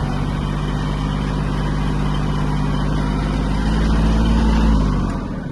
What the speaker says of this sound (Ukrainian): Ось так повільно може рухатись трактор.